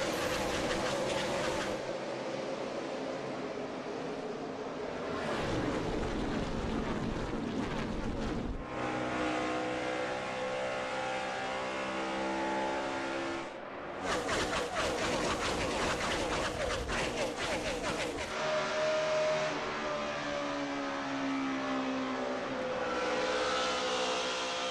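NASCAR race cars roar past on a restart at the 2010 Samsung Mobile 500, loud continuous engine noise rising and falling in waves as the field passes, with brief dips between bursts.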